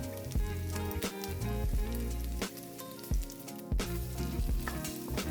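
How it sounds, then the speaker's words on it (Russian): Italian sausages or ground beef fry in a pan until golden, giving a continuous crackling sizzle with occasional sharper pops. Background music plays over the sizzle throughout. "Обжариваем итальянские колбаски или говяжий фарш до золотистой корочки."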